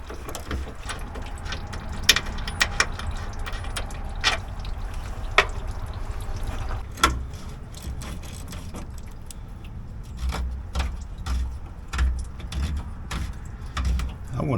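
A ratchet wrench loosens a 13 mm bolt on a 2010 Chevy Silverado, giving quick bursts of sharp clicking in irregular runs over a low background rumble.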